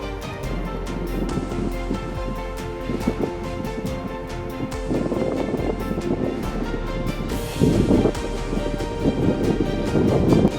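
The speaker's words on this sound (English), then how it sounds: "The wind kept things nice and cool." Wind sweeps across grassy mountain slopes on Sentry Mountain in July, a steady loud rush that buffets the microphone and swells louder in gusts, with no voices.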